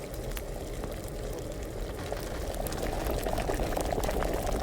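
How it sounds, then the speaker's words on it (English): Potion bubbling in an alchemy pot in Kingdom Come Deliverance, a continuous dense boil of popping bubbles that grows slightly louder over several seconds, with no voices. "Oh yeah, look at it boil."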